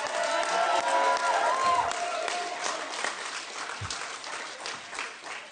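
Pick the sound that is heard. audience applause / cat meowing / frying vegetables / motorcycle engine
audience applause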